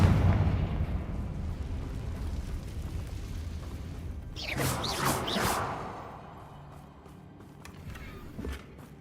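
A Confringo fire spell bursts in Hogwarts Legacy, a rushing, crackling blast that swells midway and fades, over a low rumbling game background with no voices.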